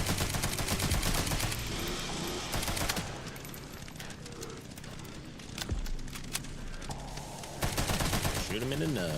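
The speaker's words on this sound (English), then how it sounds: "I told you guys how much I hate the machine guns" Rapid machine gun fire in the video game Resident Evil 9: Requiem, loud bursts of fast repeated shots in the opening seconds, then sporadic gunfire and other game effects fading toward the end.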